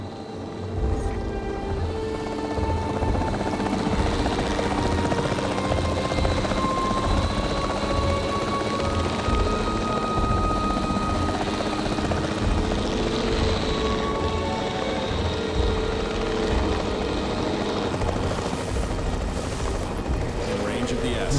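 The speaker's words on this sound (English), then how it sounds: "The priority needs to be tranquilizing it with the capture team chopper." A capture team helicopter in Jurassic World Evolution 3 thrums loudly and steadily throughout, its rotor drone constant, with scattered rapid gunfire-like shots mixed into the background.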